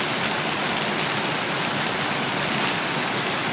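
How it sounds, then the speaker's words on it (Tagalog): Heavy rain during Typhoon Jenny: a dense, constant roar of downpour, loud and unbroken, with no voices. "kahit na malakas ang ulan"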